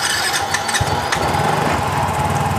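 A Yamaha Soul GT motorcycle being repaired for a lost ignition current cranks briefly, then its small engine catches and settles into a steady, close buzzing idle.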